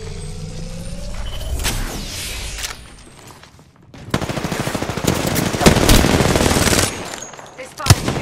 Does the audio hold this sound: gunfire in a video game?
yes